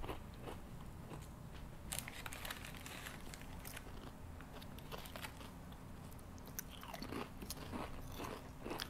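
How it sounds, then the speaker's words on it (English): Ketchup-flavoured Lay's potato chips crunch close to the mic in repeated bites and chews, crisp bursts with quieter chewing between them and no talking. "Definitely the least amount of crunch in the Lay's."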